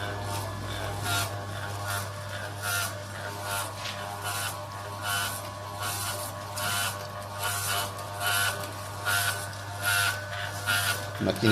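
Electric stainless-steel desktop oil press crushing soybean seeds, giving a steady motor hum with rhythmic grinding pulses roughly every half second, close and constant; a voice talks over it intermittently.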